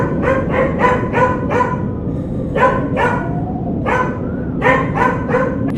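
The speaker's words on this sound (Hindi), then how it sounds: "कुत्ते जोर जोर से भौंकने लगे।" Dogs bark loudly in quick repeated bursts, several barks in a row with short pauses, over a steady low background rumble.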